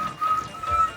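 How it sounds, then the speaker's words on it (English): A train engine's whistle sounds in a rail yard, giving a few sustained tones in short bursts over a rumbling background, fairly steady and moderately loud. "Just then there came a loud whistle"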